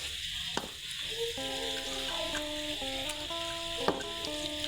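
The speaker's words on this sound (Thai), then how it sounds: "กินทอดหมูอีกแล้วนะครับ" Pork belly with skin frying in hot oil in a pan over a low flame, with a steady close sizzle and crackle and occasional stirring knocks, under quiet tonal music.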